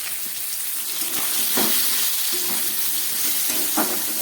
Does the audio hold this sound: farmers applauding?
no